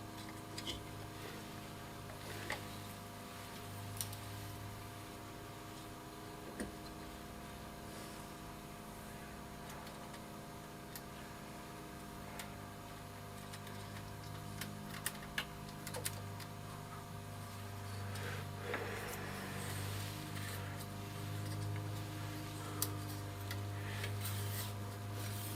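A restored Ferrograph tape recorder runs on blank tape, a steady low motor hum with faint mechanical whirring and occasional small clicks, close and quiet, with no speech.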